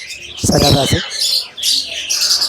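Pet birds at the Mirpur bird market, including macaws, cockatoos, cockatiels and ringneck parakeets, chirp and tweet in bright bursts, with a brief spoken phrase close by.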